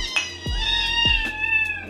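Hungry kittens meow impatiently for food, several sharp, close cries in quick succession that overlap one another.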